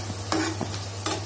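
Onion and garlic sautéing in a pan for curry leaf rice, with a few quick scraping stirs of a spatula over a steady low hum and soft sizzle in a short burst.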